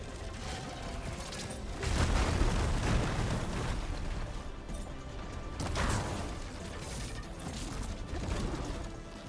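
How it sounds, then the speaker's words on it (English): Plasma explosion in Horizon Forbidden West, a loud broadband burst that swells, fades into crackling mechanical rattling, then a second blast follows, with no voices over it. "Ah, that was the plasma explosion."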